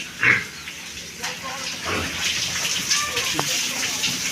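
Pigs in a piggery grunt and squeal close by at feeding time while the pens are cleaned, over a steady rush of running water, with occasional clanks.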